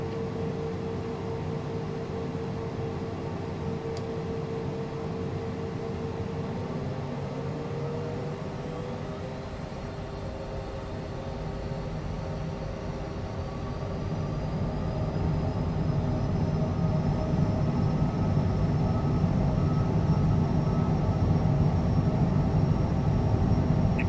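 A CJ4 jet in Microsoft Flight Simulator 2024 rolls for takeoff, its engine rumble steady and then building, with a rising whine over a continuous low roar and no talking.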